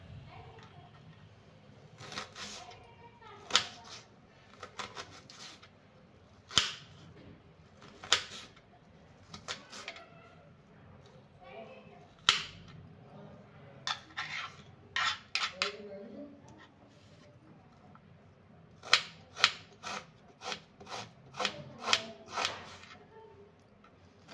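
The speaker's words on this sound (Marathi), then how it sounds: "छान आपल्याला एकदम बारीक कापून घ्यायचे आहे कांदा" A knife chops onion finely on a board, giving bursts of quick, sharp taps in rapid runs separated by pauses, close and moderately loud against a quiet background.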